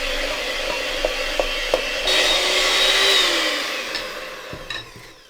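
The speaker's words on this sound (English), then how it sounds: "I whisk it with my hand blender" Hand blender whisking butter and icing sugar in a kitchen, a steady whirring motor hum with some rising pitch and faint scraping clicks, running continuously and fairly close without any talking.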